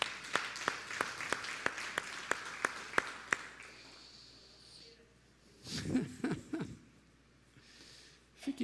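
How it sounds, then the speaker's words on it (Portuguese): A church congregation gives a short burst of hand clapping that fades out. Murmurs and a cough follow, and voices can be heard quietly in the background. "Uma salva de palmas."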